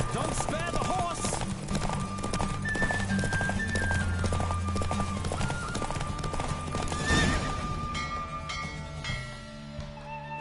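A horse gallops hard during a race in The Witcher 3: Wild Hunt on PS5, with rapid, close hoofbeats, whinnies and a music score, easing off toward the end as the run finishes.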